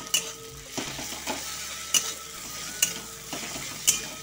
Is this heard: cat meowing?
no